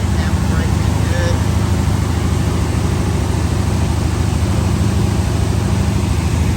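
A boat engine runs steadily just after starting, giving a loud, close, continuous low rumble and drone that does not change throughout.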